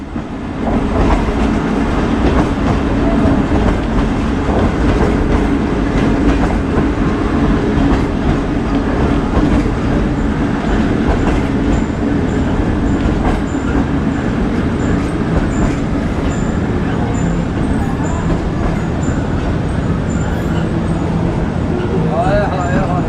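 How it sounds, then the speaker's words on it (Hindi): Sister train passing close during a crossing at Vihari station on the Fareed Express route, a steady loud rumble with rhythmic clickety-clack of wheels on rails lasting throughout, with people talking over it. "यहाँ पे हमारी क्रॉसिंग हो रही है सिस्टर ट्रेन के साथ।"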